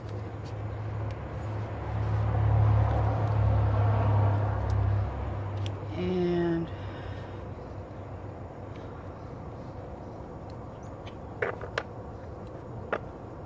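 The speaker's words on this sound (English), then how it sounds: "There's so much traffic noise anymore." Road traffic on a busy residential street: a low engine rumble swells and fades as a vehicle passes, then distant lighter traffic hum continues with a few sharp clicks near the end.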